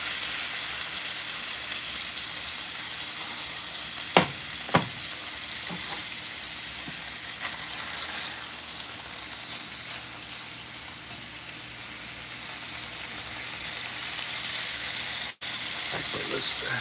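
Steak strips for fajitas frying in a hot pan give a continuous steady sizzle and hiss, with a few brief clatters and taps over it.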